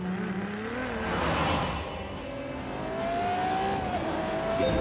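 Ferrari engine in The Grand Tour video game, revving loudly with rising and falling pitch as the car accelerates, a continuous close roar with tire noise throughout.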